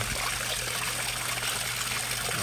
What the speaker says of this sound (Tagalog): Mga 5 waswas pa po ng tubig hanggang sa mahugasan yung uling doon.